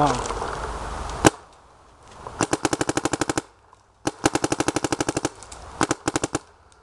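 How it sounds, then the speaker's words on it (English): A Dye DM12 paintball marker fires rapid strings of sharp pops in three bursts, loud and close, after a brief voice and a single opening shot. "that's the DM12 shooting, so here's the kick"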